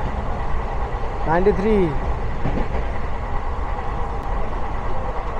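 A moving passenger train out of Kolkata gains speed with a steady, loud rolling rumble, while a nearby voice talks over it briefly.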